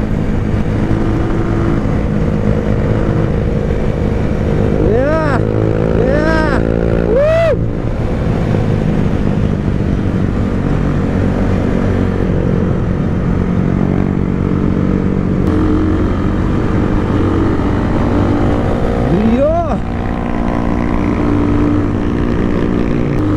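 Motorcycles on a group ride, including a Yamaha Aerox scooter, drone steadily along a rural road with continuous engine and wind noise, a few rising revs as riders accelerate, and no talk.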